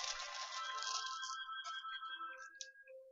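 A phone rings faintly indoors, a steady electronic ringtone with a few tonal, beeping notes, heard alone and quiet.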